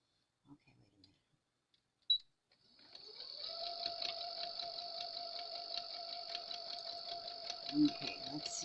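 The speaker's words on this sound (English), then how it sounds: "I'm just going to stitch on down the line" A sewing machine stitches a patch, first a few scattered clicks, then a steady, whirring run of stitching that holds at an even pace for several seconds, close and fairly quiet.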